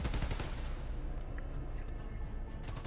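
Sustained gunfire in the Spider-Man: Miles Morales video game, a dense run of shots strongest at the start, then a steady loud background clatter with no voices.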